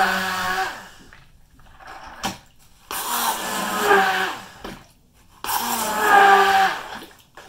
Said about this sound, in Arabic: راح اجيب هاي البلندر وراح اسويها عصير